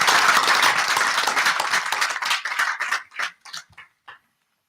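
An audience at a contest applauds a winner, a dense burst of clapping that thins into a few scattered claps before stopping.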